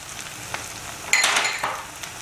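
Pressure-cooked mutton frying with spices in a pot for pulao, a steady soft sizzle with a louder burst of hiss and stirring scrapes midway, close and without talk.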